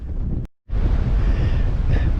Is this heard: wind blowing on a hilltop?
yes